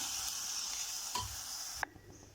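A spoon stirs paan leaf paste into a mixture in a pan over a low flame, a soft scraping sizzle with a light clack near the end, up close and alone.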